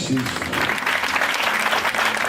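A church congregation applauding during a French-language worship service, a dense, continuous wash of many hands clapping together, close and lively throughout.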